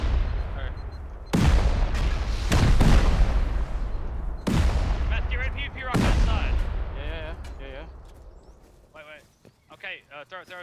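Repeated heavy C4 explosive blasts in an online multiplayer shooter game, several sharp loud booms with long rumbling decay, spaced a second or two apart, with voices chatting faintly between them near the end.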